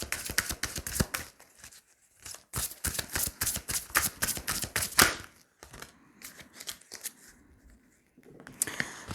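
Oracle cards from a heart chakra deck are shuffled by hand in rapid bursts of crisp riffling and flicking, with short pauses between runs, close and fairly loud with no talking.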